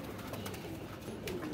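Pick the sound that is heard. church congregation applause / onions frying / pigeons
pigeons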